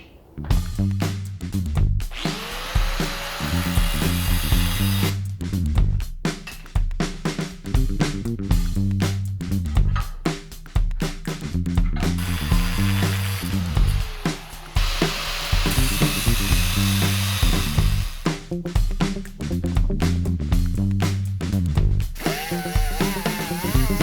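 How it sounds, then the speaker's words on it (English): Power tool cutting links out of a steel chain to make a custom alternator bracket: loud, continuous grinding and rasping close up, with brief pauses and shifts in pitch as the cut progresses, no talking. "So what I got to do now is I'm going to cut a couple links out."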